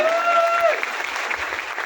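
Clapping from an audience at a network marketing leadership seminar, a dense patter of many hands filling the room, with a brief tonal whistle or feedback at the start and no speech.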